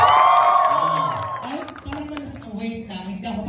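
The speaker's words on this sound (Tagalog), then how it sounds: "Palakpakan na may kasamang hiyawan!" Audience at a live show applauding and cheering, with loud whoops and clapping at first that fade into scattered crowd noise.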